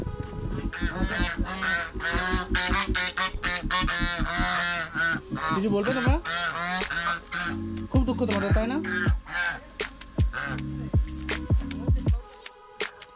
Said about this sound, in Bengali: ওমা এটা ক্যাক ক্যাক হাঁস আছে